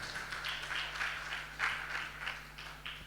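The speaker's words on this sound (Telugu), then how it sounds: "చప్పట్లు కొట్టి దేవుని మహింపరుస్తాం." A congregation claps together to praise God during a Telugu church service, a steady run of hand claps that stays fairly faint with a low electrical hum beneath it.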